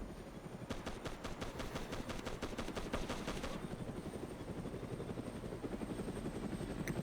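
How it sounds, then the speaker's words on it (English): Rapid bursts of helicopter gunfire from a Hind gunship in Arma: Cold War Assault, fast cracking rounds stacked over a steady loud rotor whine; shooting stops midway while the rotor drone continues. "Why is the Hind shooting that way?"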